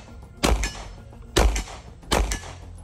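Three separate loud gunshots at a shooting range, each a sharp crack with a short ringing tail that fits rounds striking a small steel popper target, spaced about a second apart.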